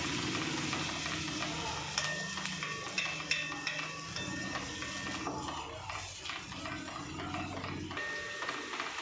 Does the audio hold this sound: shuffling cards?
no